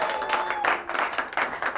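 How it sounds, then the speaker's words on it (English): Studio audience on a late-night talk show clapping to welcome a guest, a steady wash of applause lasting under two seconds with a brief dip midway. "Round of applause for Mike."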